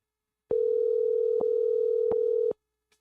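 A single loud, steady telephone tone plays for about two seconds while a call is placed back, with small clicks along it, then silence.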